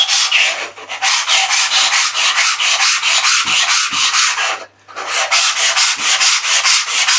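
Hand sanding wood with a small board wrapped in 240 grit sandpaper: steady rhythmic back-and-forth rasping strokes, close and loud, with one short pause partway through, no voices.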